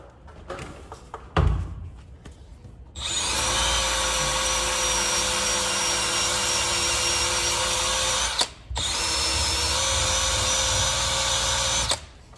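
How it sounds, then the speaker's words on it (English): Drill spinning an eraser disc against car paint to strip a decal, a few brief clicks and taps first, then a long steady high whine for about five seconds, a short break, and another sustained run. "You just put it in your drill and I will show you how it works."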